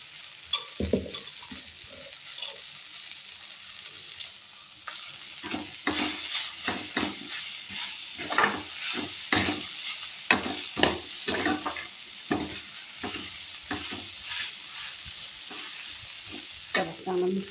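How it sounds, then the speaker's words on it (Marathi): Cooked rice is stirred into fried tomatoes and turmeric in a pan, with a low sizzle under repeated scraping and clinking spoon strokes that grow busier midway. "तर भात चांगला मिक्स करून घेतला"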